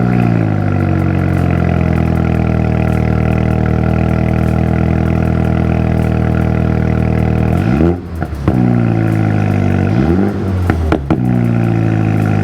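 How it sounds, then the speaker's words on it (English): A 2019 Mini John Cooper Works revs hard through its tailpipes, a loud, close engine drone climbing steadily, then dropping sharply with throttle blips and crackling pops near the end. "it makes those tailpipes sound even better"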